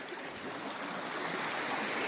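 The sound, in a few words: mountain stream flowing in Serindere canyon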